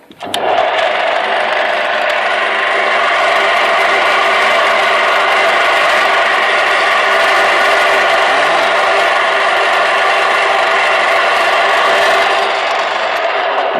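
A fine-toothed shredder grinds an apple in a loud, steady mechanical whir that runs unbroken for about thirteen seconds after a brief start-up.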